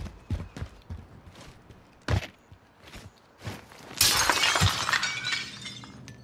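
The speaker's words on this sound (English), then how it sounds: "Is that you breaking glass?" Glass shatters with a loud, bright crash and scattering debris in Call of Duty: Modern Warfare, following several earlier footsteps and thuds.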